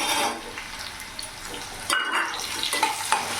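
Small diced potatoes fry in a pan for a kabuli chickpea ghugni, a soft sizzle with a few brief stirring scrapes and clinks, fairly quiet and close, without any talking.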